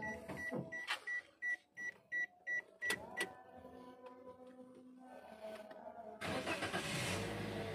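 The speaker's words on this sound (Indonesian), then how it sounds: "Kita coba nyalakan mesinnya." A manual 2016 Toyota Calya type G: a run of evenly spaced dashboard beeps and a few clicks, then the engine cranks and catches, settling into a steady low idle, with no talk.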